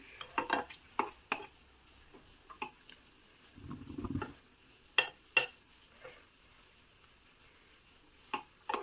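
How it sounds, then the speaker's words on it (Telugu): Ginger and jaggery syrup stirred in a pan for homemade chocolates, with faint soft sizzling under scattered spoon scrapes and taps against the pan, close and quiet, no talk. "ఇలా కలుపుకుంటూ ఉన్నాను, ఎందుకంటే పాకం వచ్చే వరకు పొంగుతుంది మనకి."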